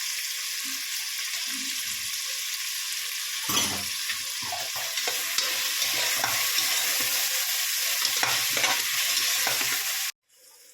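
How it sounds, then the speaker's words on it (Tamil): Ginger garlic paste fries with onion and tomato in a pan, a continuous hiss broken by stirring clatter and scrapes, close and steady before stopping abruptly near the end. "இஞ்சி பூண்டு பேஸ்ட் 2 ஸ்பூன் போட்டுக்கிறேன்."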